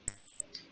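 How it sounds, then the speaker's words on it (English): A smoke alarm gives short, loud, high-pitched electronic beeps, two bursts separated by a pause, with no talk over them. "There's a lot of beeping from somewhere."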